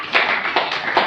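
Scattered clapping from a church congregation praising Jesus comes in a few uneven bursts, moderately loud and close.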